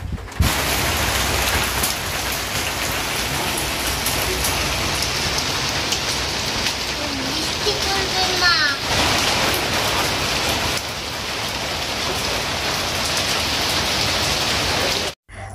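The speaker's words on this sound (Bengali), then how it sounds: "তো এই যে ফাইনালি চলেই আসলো বৃষ্টি অনেক দেরিতে রাত্রিবেলা" Steady, heavy night rain pours down continuously, a dense hiss of drops on surfaces with no voices, filling the whole stretch at an even loudness.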